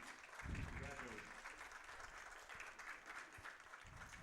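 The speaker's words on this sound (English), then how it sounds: "the applause that is for Coach Galita" Faint applause in a crowd at a high school baseball game, a thin, steady patter of clapping heard from a distance under a voice talking.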